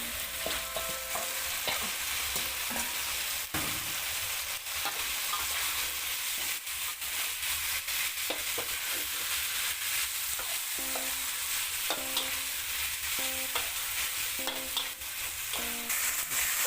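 Chili curry paste and liang leaves are stir-fried in a pan, with steady loud sizzling and repeated scraping and clanking strokes of a utensil against the pan throughout, and no talking.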